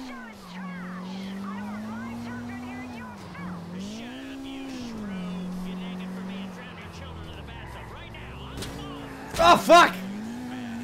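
A car's engine drones and rises in pitch while driving in the video game GTA 4, with a sharp tire squeal near the end; a voice talks over it.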